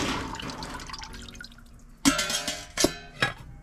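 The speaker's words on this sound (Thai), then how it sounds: "นี่เทน้ำออกนะคะ" Water is poured out of a container used for growing bean sprouts, giving splashy trickles and drips that end in three sharper splashes near the end, close and moderately loud.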